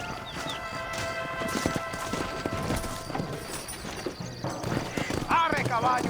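A horse gallops in Red Dead Redemption, its steady clip-clop of hooves close and rhythmic, with a whinny near the end and voices speaking over the riding.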